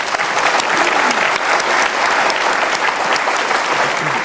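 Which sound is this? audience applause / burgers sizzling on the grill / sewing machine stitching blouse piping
audience applause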